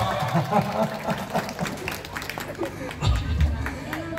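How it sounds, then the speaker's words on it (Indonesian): Audience applause fills an Indonesian Independence Day community gathering, a lively crowd clapping steadily with babble and voices mixed in, swelling briefly near the end. "Tepuk tangan untuk kita semua."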